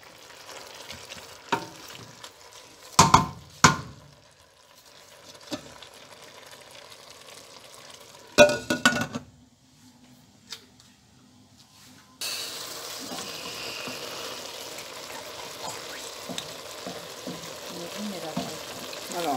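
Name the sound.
vegetables with cod and shrimp cooking in oil in a pan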